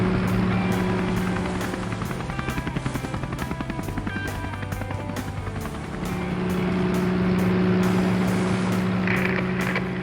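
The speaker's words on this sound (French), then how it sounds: "Hélicoptère en vue." Steady helicopter rotor thudding with a constant engine drone, fairly close and loud, swelling slightly toward the end.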